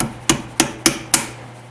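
Four sharp hammer blows on a part of a Chevy S10 during a V8 swap, evenly spaced about a quarter second apart, loud and close, each with a short ringing decay over a faint hum.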